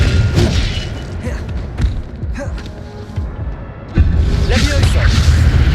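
Incendio fire spells fly in the Hogwarts Legacy video game: several heavy booming thuds and crackling bursts land at uneven intervals, loud and close, with voices shouting over the combat throughout.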